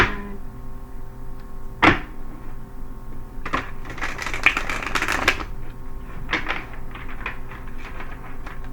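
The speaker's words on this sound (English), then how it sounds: "Okay, shuffle one more time." Tarot cards are shuffled by hand in close, crisp riffling and shuffling bursts, with a sharp slap near the start and busier, denser card noise in the middle.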